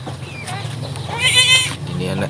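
A newborn Kacang goat kid gives a thin, wavering bleat close by, rising briefly over a steady low background hum, with someone speaking over it.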